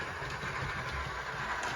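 Hornby LNER P2 Lord President 00-gauge model locomotive with Digitrains sound running smoothly, a soft steady mechanical hum and faint rail rumble, close and even throughout, with no voices.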